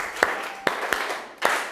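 Hands clapping in a classroom of a Serang Baru senior high school, four sharp claps spaced unevenly over a couple of seconds, close and fairly loud against a faint murmuring room.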